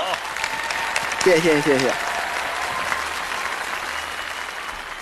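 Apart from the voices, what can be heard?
audience applause for a contestant on a TV show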